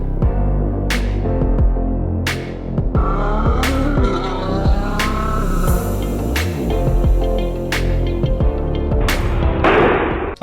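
Fast hobby-grade RC cars, such as an A959 and an Amoril buggy, racing on paved road with a high whining motor that rises and falls in pitch, interrupted by repeated sharp tire skids and squeals, loud and close.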